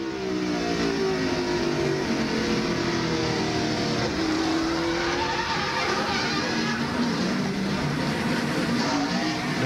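During the 1999 NAPA AutoCare 500 NASCAR race, a continuous roar of race car engines fills a broadcast feed, with droning, shifting engine tones and a faint, tire-like whine layered into the dense, steady racing noise.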